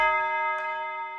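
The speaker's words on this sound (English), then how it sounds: "got this tubular bell right here. I just layered it on the root note underneath the piano." A tubular bell layered on the root note beneath a piano in a produced beat, shaped with EQ, delay and hall reverb: one sustained, shimmering metallic tone with bright ringing overtones and a soft secondary strike, decaying slowly.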